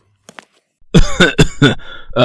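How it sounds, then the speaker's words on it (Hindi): An old man lying on a cot outside his house coughs in a rough, throaty run of about five close bursts after a brief quiet start, fairly loud and near, with no other sounds. "घर के बाहर चारपाई पर लेटे हुए खांस रहे थे"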